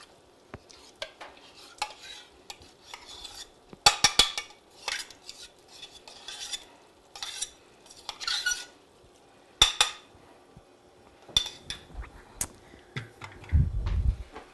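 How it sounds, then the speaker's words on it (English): Sour cream being stirred into a creamed spinach mixture in a bowl: a run of soft scraping and clinking utensil strokes at close range, with a few sharper knocks, and no one talking. "Give that a little stir."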